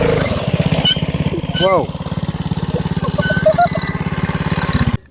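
A Coleman mini bike fitted with a new Predator 212 engine runs steadily nearby with a chugging small-engine putter and a brief rev, while people talk and exclaim over it.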